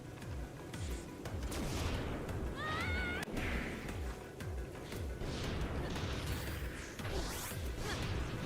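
Thunder and lightning crackle and boom repeatedly in the video game Cloudbuilt, a dense, loud rumbling wash with sharp crashes and whooshes and no talk.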